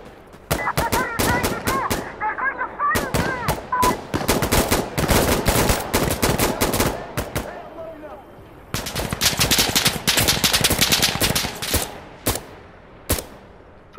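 Gunfire in the Insurgency: Sandstorm video game: loud bursts of automatic fire and single shots in quick clusters with short gaps between them, while voices shout in the background.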